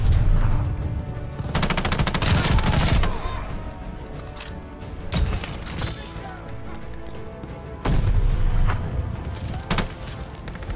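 Rapid automatic gunfire in a video game rattles in loud bursts, with quieter stretches of scattered shots and impacts between them.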